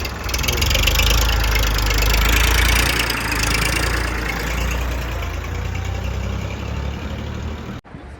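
A Simpson-engined 45-horsepower tractor runs steadily nearby at the Indofarm plant with a loud, rumbling drone, voices faintly mixed in, then a sudden brief drop near the end.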